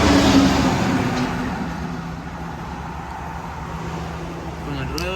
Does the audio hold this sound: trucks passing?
yes